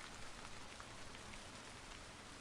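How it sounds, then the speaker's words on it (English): Soft, steady rain from a video game, a quiet continuous patter of drops falling on an umbrella, even and unbroken with no voices. "The quiet rain."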